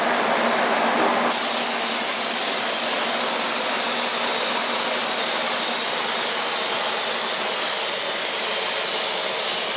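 Steady, loud broadband hiss of a spray gun laying down gelcoat on a new jet boat hull, continuous throughout with a slight jump in intensity early on, over a droning fan.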